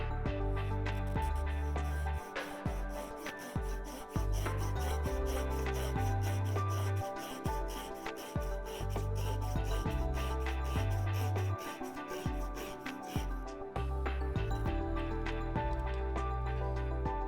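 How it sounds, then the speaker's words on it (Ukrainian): An ARS IK-10-R hand saw cuts through a small branch about 12–15 mm thick, giving a rapid, even rasping of back-and-forth strokes that carries on steadily, close up, with no talk. "Давайте попробуємо обрізати гілочку цією пилкою."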